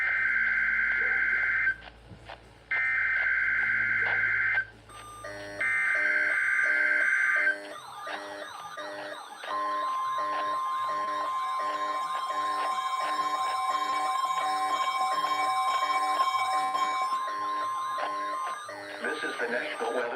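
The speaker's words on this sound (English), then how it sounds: "The tones you just heard were a test of the specific area message encoding and tone alert systems." A NOAA weather radio test from the National Weather Service office in State College, Pennsylvania: three loud, buzzy bursts of coded data, then a long, steady, piercing alert tone.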